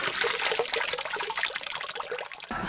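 Water splashes and pours in a continuous close rush, ending with an abrupt louder splash onto a person; no speech.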